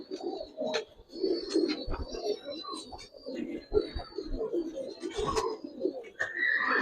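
Pigeons in a loft coo in soft, overlapping low calls, with rustling and scattered chirps nearby and people talking in the background.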